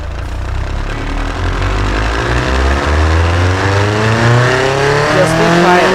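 A simulated car engine in the Automation car tycoon game revs loudly, its pitch climbing steadily as it accelerates, with harsh layered harmonics filling the whole stretch.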